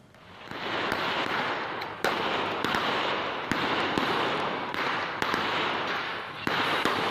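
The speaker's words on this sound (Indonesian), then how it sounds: "Polisi terpaksa melepaskan tembakan untuk membubarkan sekelompok orang" Police fire gunshots to scatter a crowd of suspected looters at a nickel company in Morowali: sharp, distant bangs at irregular intervals over a constant loud roar of crowd and background noise.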